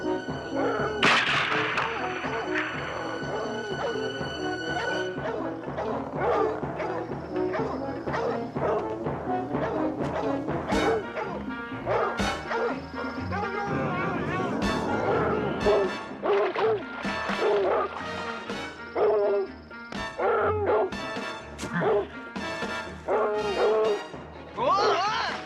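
Several dogs bark, yip and whimper in an excited outdoor scene as people shout and talk over them, with the barking continuing throughout and loud and close.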